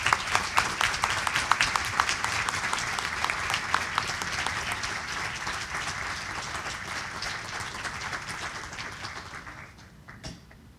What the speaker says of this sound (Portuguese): peço a todos uma salva de palmas para o